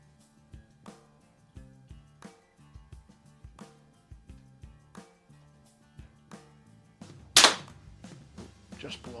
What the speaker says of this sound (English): we're gonna shoot this Crosman.